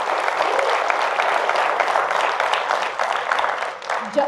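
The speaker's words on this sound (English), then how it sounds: "applause?" A live podcast audience applauds a guest on stage, dense steady clapping filling the whole stretch at a fairly loud, even level, with a voice faintly entering near the end.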